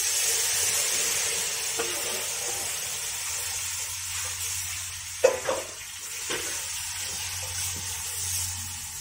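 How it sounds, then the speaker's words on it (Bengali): Tamarind water hits hot oil in a pan and sizzles with a steady, close hiss. A few stirring scrapes and splashes stand out briefly before the sizzle carries on alone. "তেঁতুলের জল, তেঁতুলগুলো গুলে নিয়েছিলাম, এখন দিয়ে দিচ্ছি।"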